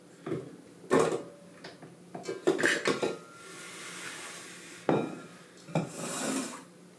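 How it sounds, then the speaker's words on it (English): Bread dough is kneaded by hand, close up: irregular soft thuds, slaps and rubbing scrapes against a surface or bowl, with a few brief quieter pauses and no talk. "I'm just going to hand knead it to attempt to like get get some sort of a result here"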